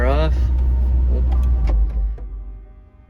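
A MINI GP3 shuts down: a loud, steady low engine rumble runs close by, then drops away and fades over the last second. A short electronic tone sounds at the start.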